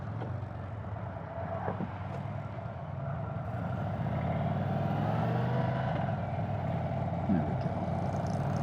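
A 2023 Indian Sport Chief 116 motorcycle accelerating in sport mode gives a steady, continuous engine drone that swells slightly, with someone talking over it.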